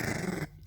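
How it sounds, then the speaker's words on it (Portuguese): A small dog gives a nasal, snuffly growl up close, a low rumbling snarl that breaks off briefly near the end and then resumes. "Eu amo esse rosnadinho fanhoso."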